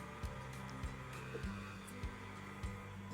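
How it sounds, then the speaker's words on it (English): Stand mixer running on its lowest stir speed mixing chocolate chip cookie dough: a faint, steady motor hum with soft rhythmic thumps of the beater about every 0.6 seconds, with no talking. "with the mixer running, we're just adding our dry ingredients in"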